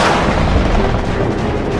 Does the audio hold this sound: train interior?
no